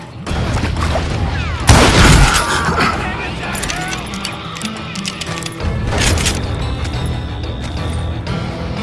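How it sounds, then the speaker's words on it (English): A fusillade of gunfire in the Western shooter Call of Juarez: Gunslinger, with sharp loud cracks hitting in clusters, the heaviest burst early and another later, amid ricochets and clatter, while a voice narrates over it. "a fusillade of bullets come raining down from on high"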